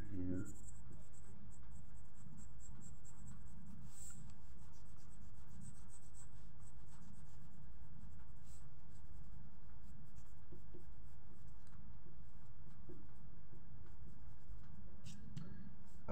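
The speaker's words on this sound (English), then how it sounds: "let me draw here" A pen scratches and rubs continuously across paper while a colorful dinosaur is drawn, producing close, steady strokes that run without pause for the whole stretch.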